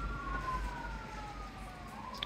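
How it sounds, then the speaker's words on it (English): Wailing emergency sirens sweep slowly up and down at a distance over steady low traffic rumble, with no voices. "It's a lot of sirens on the go."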